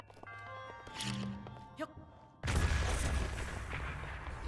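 Remote bomb detonating in Zelda: Breath of the Wild, a sudden loud blast that opens into a sustained, rumbling burst of noise after a quieter stretch of game ambience and soft chimes.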